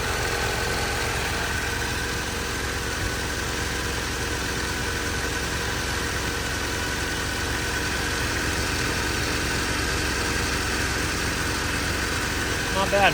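A warm, computer-controlled car engine with catalytic converter and smog pump idles steadily, a continuous low rumble close by throughout, with a person briefly speaking over it.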